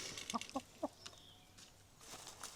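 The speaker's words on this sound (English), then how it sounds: "Come on then, chickens, out you come." Chickens cluck in a few short, sharp bursts as they leave their coop on a Portuguese homestead property. The clucks come close and moderately loud over quiet outdoor background.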